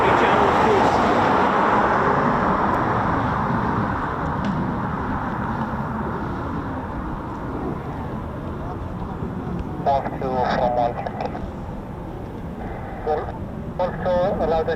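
Eurofighter Typhoon FGR4 jets departing RAF Coningsby make a loud, continuous roar that fills the scene and slowly eases, with people talking over it and radio chatter in the later part.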